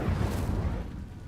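Incendio fire spell cast in the Hogwarts Legacy video game: a loud, low booming burst of magical fire that rumbles steadily, then eases off slightly toward the end.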